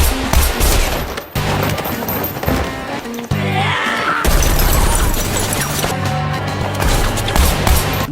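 Automatic gunfire crackles through an anime film's battle scene outside a city ruler's building, with rapid bursts over a dense soundtrack of crashes and booms for about eight seconds, loud and continuous.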